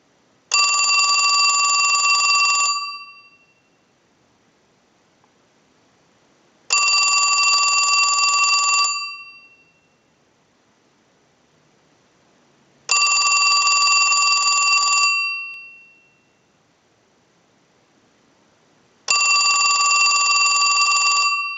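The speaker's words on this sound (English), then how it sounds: "send a ring cycle like you were getting a call" A Western Electric Trimline wall telephone's bell rings in four long bursts of about two seconds each, evenly spaced with quiet gaps between them, loud and close with no talk.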